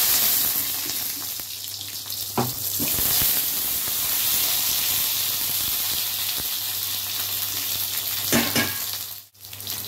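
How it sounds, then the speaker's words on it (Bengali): Eggplant pieces fry in hot oil in a wok with black cumin seeds, giving a constant close hiss and sizzle broken by a few sharp clatters of stirring. "এবার দেব বেগুন।"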